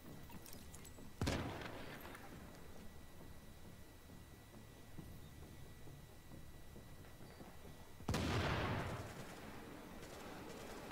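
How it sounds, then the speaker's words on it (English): Explosions in The Division at a napalm production site, two distant booming blasts several seconds apart, each with a rumbling decay over a quiet background. "I was just watching all the explosions."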